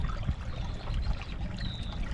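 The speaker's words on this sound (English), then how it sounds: "you can see the water coming back to the intake now that I cleaned it" Water flows back into a field drain intake, a close, steady gurgling trickle with low rumbling outdoor noise underneath and no voices.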